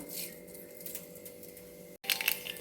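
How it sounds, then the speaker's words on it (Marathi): Fine crackling and popping of mustard seeds in hot oil in a kadhai, light and continuous, growing a bit busier near the end after a brief cut; no speech. "मोहरी तडतडती आहे"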